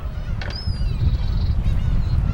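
Seagulls call over the sea while bright, wavering gull cries rise above a constant low rumble of wind and water. A few calls overlap in the first half, and the rumble stays loud throughout.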